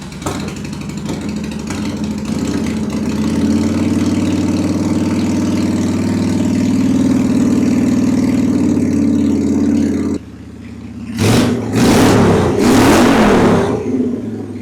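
A Honda Shadow motorcycle engine runs steadily close by with a deep rumbling idle, then cuts briefly and bursts into two or three sharp throttle revs, with no talking over it.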